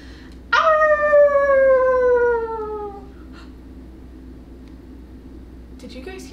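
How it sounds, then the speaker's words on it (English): A wolf howls at night, one long, loud, sustained call that slides gradually downward in pitch for about two and a half seconds before fading into a quiet background. "Oh, that's right, it's a wolf."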